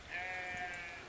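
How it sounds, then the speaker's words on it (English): A single short sheep bleat, wavering and moderately faint, heard alone against quiet outdoor background on a walk near Pistyll Rhaeadr waterfall in Wales. "Hello, sheep."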